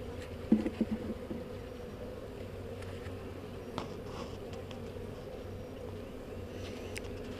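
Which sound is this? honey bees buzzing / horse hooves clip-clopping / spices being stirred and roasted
honey bees buzzing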